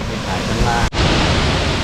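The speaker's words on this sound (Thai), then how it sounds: "เรากำลังเดินอยู่บนสันของน้ำตก" Rushing water roars steadily at close range from the crest of a waterfall at Na Thon camp in Loei, Thailand, a dense broadband wash with a momentary dropout near the one-second mark.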